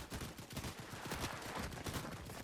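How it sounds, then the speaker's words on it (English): Dense, continuous video-game gunfire crackles nonstop through the whole stretch, a steady fusillade of overlapping shots at close range with no voices on top. "he's over there somewhere because she's still shooting"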